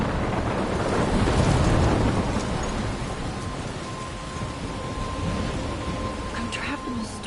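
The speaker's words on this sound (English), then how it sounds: "I'm trapped in a storm?" Heavy rain and rolling thunder from a thunderstorm in the video game Life is Strange, a loud, steady downpour with wind buffeting throughout.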